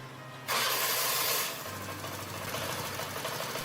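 Old abandoned convertible tractor engine running with a steady low rumble and broad hiss, a louder rushing burst at the start before settling into an even idle-like drone.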